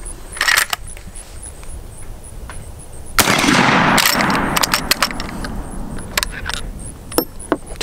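A black powder firearm booms once with a long roaring, hissing tail, surrounded by scattered metallic clicks and small clatters from handling.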